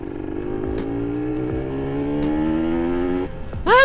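A modified, tuned Kawasaki Ninja RR two-stroke motorcycle engine revs up with a buzzy, rising pitch held close by, then snaps into a sharp, higher rev at the end.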